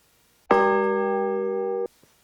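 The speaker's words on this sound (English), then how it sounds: "ring that notification bell" One bright notification bell ding rings out, loud and close, then holds a clean sustained tone before cutting off cleanly, alone against near silence.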